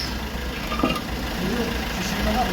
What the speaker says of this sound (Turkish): Motor saat gibi çalışıyor.